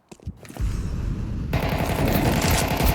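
Rapid automatic gunfire in Counter-Strike 2 on the Vertigo map during a professional match, a loud, dense, continuous burst of shots that starts after a few brief cracks and carries on steadily.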